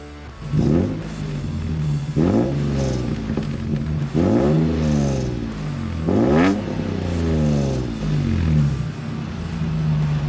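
A Toyota Land Cruiser engine fitted with a De Graaf Performance exhaust revs up in four separate bursts, each a deep, loud roar that climbs and then falls away, with the engine running on between them and no talking.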